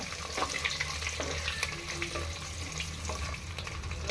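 Onions frying in a pan for coconut pulao, a steady broadband sizzle with scattered crackles and occasional scraping taps, moderately close and continuous throughout with no voices.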